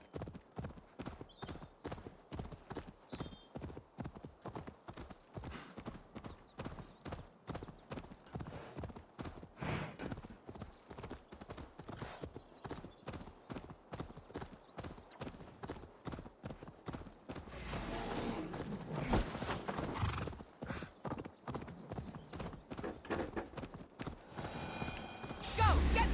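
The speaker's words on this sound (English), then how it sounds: "I'm on my horse. I'm going fast." Galloping horse in a video game, hooves clip-clopping in a fast steady rhythm for the whole stretch, with a brief whinny near the end and someone talking over it.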